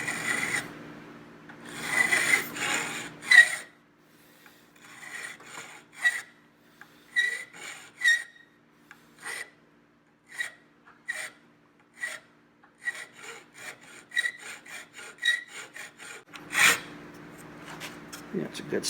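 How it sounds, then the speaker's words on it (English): A hand file rasps against a metal Honda motorcycle handlebar in short, repeated strokes, some quick bursts and some slower scrapes, with pauses between. "I'm going to use the side of the file and see if we can get this started"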